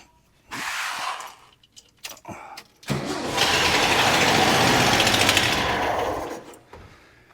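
A 1966 VW Fastback engine cranking over without catching, the starter whirring in a long sustained burst after a few shorter tries, loud and close with no speech.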